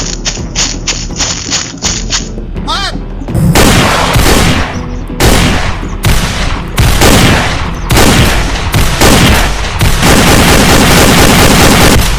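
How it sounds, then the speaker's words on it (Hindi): Gunfire in a short war film scene, with loud bursts and rapid volleys of shots and blasts going off one after another, very close and dominating, with no speech over it. "फायरिंग देखो, ये फायरिंग हमारे लिए नहीं है।"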